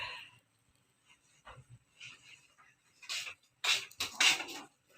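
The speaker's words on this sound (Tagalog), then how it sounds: "Yung aso ang ingay dun." A dog nearby during home cooking of pork pochero, making a scattered series of yips, whimpers and panting sounds, growing louder toward the end.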